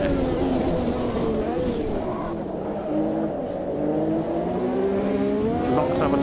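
McLaren race car in a racing video game braking hard into a corner, its engine note dropping and climbing again as a faint tyre scrub edges in, steady and close.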